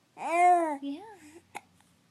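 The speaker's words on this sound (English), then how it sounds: "Bye-bye, hiccups." A baby babbles in a long, sing-song vocal run, then lets out a single short, sharp hiccup, close and clear, followed by quiet.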